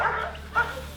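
A dog gives a couple of short, close yips and barks during a morning police patrol in a Cape Town slum, with faint background noise between the calls.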